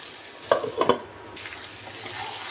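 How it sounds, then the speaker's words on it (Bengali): Jackfruit and fried potatoes being sautéed in a pan: a few quick scraping stirs of a spatula over a soft, steady sizzle, close and brief, with no talking. "আলুটা দিয়ে সুন্দরভাবে আমি এঁচোড়টা কিছুক্ষণ কষিয়ে নিলাম বন্ধুরা"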